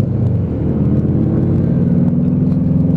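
Lexmoto ZSB motorcycle engine droning loudly and steadily as the rider downshifts through the gears from third to first on a road near a roundabout, a close, continuous rumbling hum with shifting harmonics.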